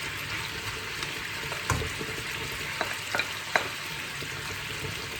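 Garlic and allotment-grown onions frying in a pan, making a steady close hiss of sizzling oil with a few light knocks and scrapes from a stirring utensil, no one talking.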